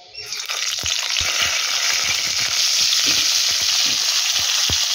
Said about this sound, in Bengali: এবার এই গরম তেলেই পটলগুলোকে ছেড়ে দেব।